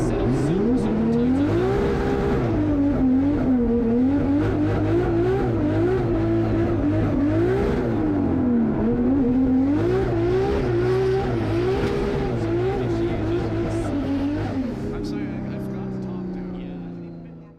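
Drift cars racing at the Irish Drift Series JapFest, engines wailing and revving up and down loudly across the clip before fading out near the end.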